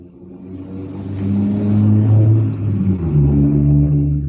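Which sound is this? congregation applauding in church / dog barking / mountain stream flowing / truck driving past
truck driving past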